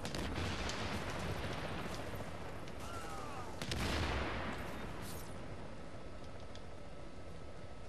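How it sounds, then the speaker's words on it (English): Grenade explosions and gunfire in The Division's Dark Zone, with a dense, continuous barrage of shots and blasts, a heavier burst near the middle, and a steady rumble throughout. "Some asshole was throwing grenades."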